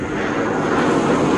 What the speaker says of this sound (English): There's a airbase jet right there.